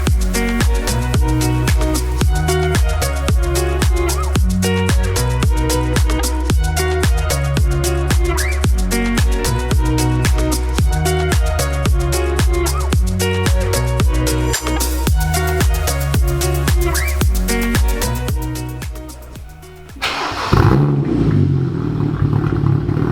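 BMW 135i/335i with the N54 engine and a custom exhaust, revving hard in a steady loud drone with rapid pulsing clatter, then dropping off briefly before picking up again, close by.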